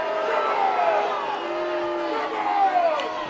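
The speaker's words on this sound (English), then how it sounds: "Crowd is upset with that one." A college football stadium crowd at a Georgetown versus Lehigh game gives off a steady, fairly distant roar of displeasure with rising and falling voices, and no single voice stands out.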